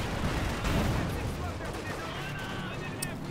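An MG42 machine gun fires in the video game Company of Heroes 2, a dense continuous roar of battle gunfire with rumbling blasts, loud and unbroken, with someone talking over it.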